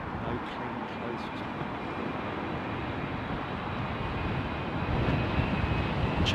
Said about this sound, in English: 777-300, big old set of GEs popped.